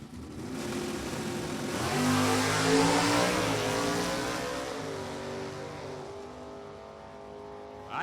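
Two automatic drag racing cars launch and accelerate hard on an NHRA strip: a 327-powered Camaro and a Pontiac. Their loud, close engine roar rises in pitch, peaks, then holds as a sustained rasp. No voices are heard.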